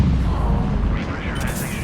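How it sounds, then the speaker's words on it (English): A grenade goes off in the Mass Effect 3 video game, a heavy rumbling blast of low boom and debris filling the short span at close range. "Whoop, that's a grenade."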